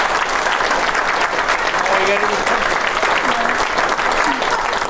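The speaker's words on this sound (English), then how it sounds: "So I'd like to applaud my son Elliot for being such a great person to do t" Wedding guests applaud during the toasts, a steady, full round of clapping filling the room, with faint voices murmuring beneath it.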